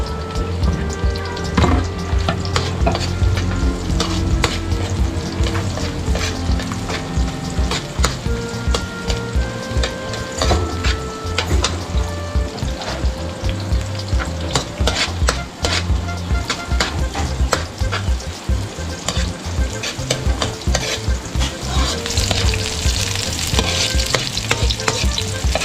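Garlic and onion sautéing in a pan over charcoal for balbacua, with a loud, dense sizzle and rapid spatula scraping and clatter that carry on steadily and close up, no talking.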